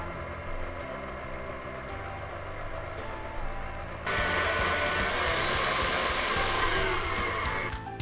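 A stand mixer fitted with a paddle churns blondie batter on its slow setting, a steady motor whir that steps up to a fuller hum midway, fairly quiet and close with no talking.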